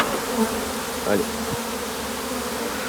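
Honey bees swarming around an open beehive, a dense continuous buzz filling the air close by, with a few louder individual bees passing near and no talking.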